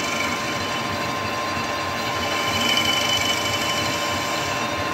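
A lathe facing off and parting a metal bicycle component in a custom bike workshop, a steady dense machining whir with a faint whine, continuous and fairly loud throughout with no talk.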